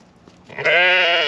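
A Dorper cross Swaledale ewe lets out a single loud, wavering bleat, close by after a moment of quiet rustling, lasting under a second.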